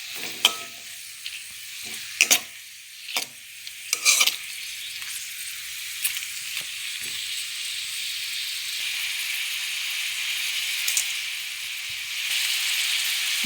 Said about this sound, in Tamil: நல்லா பொடியாக கட் பண்ண வெங்காயம் இதை ஆட் பண்ணிவிட்டு நல்லா கிளறி விட்டுக்கோங்க